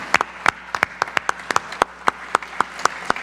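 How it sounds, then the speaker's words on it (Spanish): Sparse, evenly spaced hand claps at a book-fair talk for Héctor Díaz, a member of the Brigada para Leer en Libertad, roughly a dozen sharp, fairly close claps over a quiet room with no talking. "Por favor, un aplauso."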